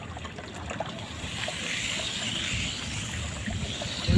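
A boat moving across water on a trip out to a village field, with a steady wash of water and a broad hiss running continuously at close range, no talk.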